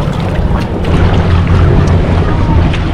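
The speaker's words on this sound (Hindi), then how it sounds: "तो हमारी बोट चल रही है" A boat moving out on the sea off Juhu beach in Mumbai, with loud steady wind buffeting and rushing water and engine rumble up close, continuous throughout.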